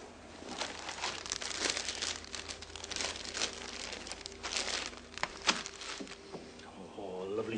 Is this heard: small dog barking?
no